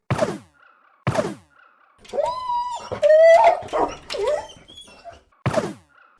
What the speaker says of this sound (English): That bloody dog was getting on my tits.